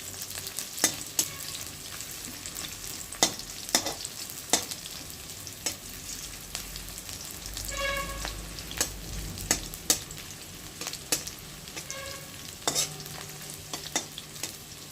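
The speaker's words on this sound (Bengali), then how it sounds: "পেঁয়াজগুলো লাল লাল করে ভেজে নিতে হবে" Onions frying in a pan, stirred repeatedly: a soft continuous sizzle broken by frequent sharp scrapes and knocks of the spatula, with no talking.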